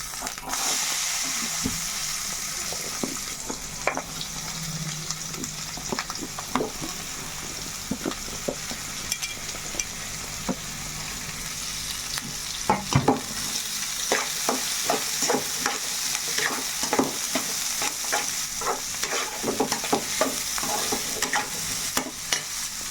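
Onions frying in a pan alongside cooked eggs, a steady sizzle punctuated by frequent sharp clinks and scrapes of a spatula stirring the pan.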